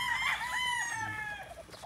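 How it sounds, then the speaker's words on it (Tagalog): A rooster crows on a chicken farm, one clear drawn-out call up close that sits fairly quietly against the surroundings. "Pakita mo mga manok natin."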